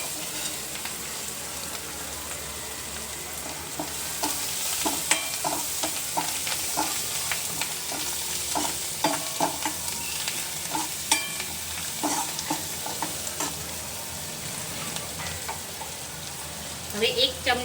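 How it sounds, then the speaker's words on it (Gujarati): Chopped coriander, green garlic, green chillies and green onion leaves being sautéed for aloo paratha filling: a bright crackling sizzle with repeated scraping stirs of a spoon in the pan, up close, with some brief speech. "જે આપણે કોથમરી, લીલું લસણ, લીલા મરચાં અને લીલી ડુંગળીના પાન સાથેનું જે સમારીને રાખ્યા છે તેને આપણે અંદર એડ કરીશું અને સાતળશું"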